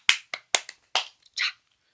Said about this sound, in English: we slow clap it out for Rainbow Rowell